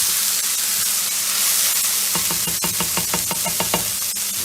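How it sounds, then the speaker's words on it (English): Ingredients for a Cuban quiche sauté in a pan with a loud, even hiss, then a run of rhythmic clicking scrapes as they are stirred partway through. "after about 10 minutes of sauteing here"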